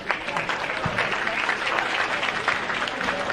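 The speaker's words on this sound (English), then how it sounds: "let's get a round of applause for Steve and Tracy Lyman" Audience applause for a couple at a presentation, a dense crowd clapping steadily and loudly throughout with a few cheers mixed in.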